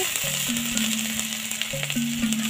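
Onion fries in hot oil with five-spice seeds and garlic for a fish curry, making a steady close hiss and sizzle. A few faint tonal beeps sound in the background, and there is no speech.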